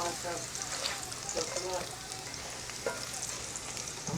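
Fries crackle and sizzle steadily in a pan of beef tallow, a dense hiss of frying with faint voices murmuring underneath.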